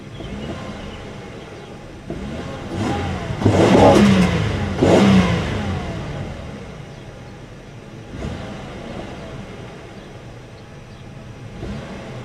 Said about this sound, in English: we can listen to it rev